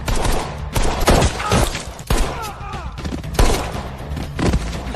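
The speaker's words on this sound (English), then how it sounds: "And then, gunfire erupted behind me." Dramatic gunfire in a romance short drama's shootout, a series of sharp, loud blasts and thuds spaced about a second apart, close and punchy, with some scattered debris-like crackle between shots.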